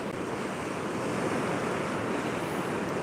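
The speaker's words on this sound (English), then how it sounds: "That's a real churned up water system there." Rough sea churning against a rocky coast, a steady, loud wash of surf with gusting wind noise on the microphone, continuous and without voices.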